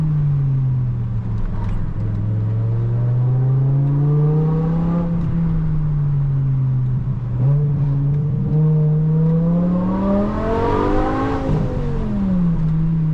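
A BMW E60 M5 with its V10 engine revs up close, a loud steady idle drone rising and falling through several throttle blips, climbing to a sharp high-revving peak near the end before settling back down.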